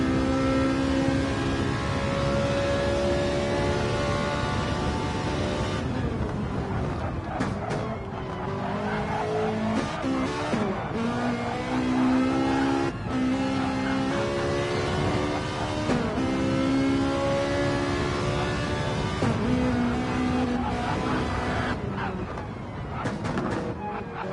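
A Ferrari 458 race car in Gran Turismo 7 at Yas Marina, Abu Dhabi, with a loud, steady engine drone and shifting gear tones running throughout, the pitch rising and falling as it accelerates.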